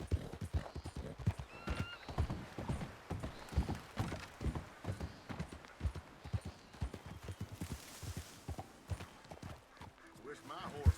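Horse hooves clip-clop steadily in Red Dead Redemption 2, a continuous rhythmic clatter under game music, with a brief whinny and voices talking in the background.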